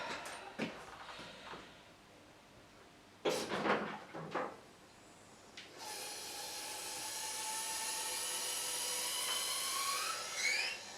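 A Triumph Bonneville T140 motorcycle is lowered on a workbench lift: a few clanks and knocks, then a rising, whining mechanical hiss from about the six-second mark that holds steady, fairly faint, with no talking.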